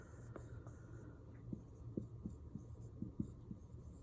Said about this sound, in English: so I'm going to write her name